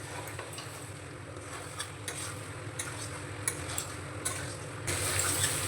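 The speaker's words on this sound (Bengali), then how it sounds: "এঁচোড় আর আলুটাকে মশলার সঙ্গে আমি সুন্দর করে কষিয়ে নেব।" Pre-fried jackfruit and potatoes are stir-fried in spice paste for a jackfruit kalia, with a continuous low sizzle and scraping stir strokes. Faint ticks and clinks recur, and the sound grows brighter and louder near the end.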